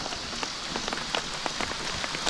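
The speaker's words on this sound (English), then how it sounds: "Well, it's raining, folks." Steady rain patters across a surface outdoors on a fishing trip, a continuous soft hiss with scattered small drop taps, fairly quiet and free of talk.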